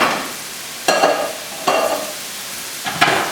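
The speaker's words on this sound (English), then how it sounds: "Now just stir that around, mix it all in together, get some of those colors going from the soy sauce into the rice." Fish fried rice with soy sauce stirred in a pan, three distinct scraping strokes of the spatula with a soft sizzle between them, close and fairly loud with no talking.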